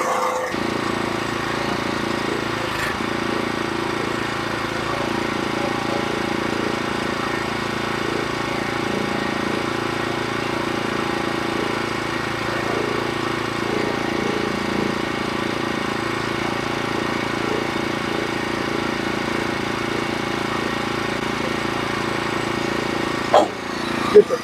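The engine of a Norwood HD36v2 sawmill, used for cutting black locust boards, runs at a steady, droning idle throughout, close and moderately loud with no pauses.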